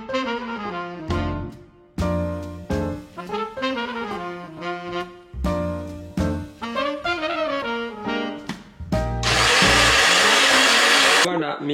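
A kitchen blender whirs at high speed while orange and matcha juices are made, a loud steady roar that follows music or other sounds and runs for several seconds near the end.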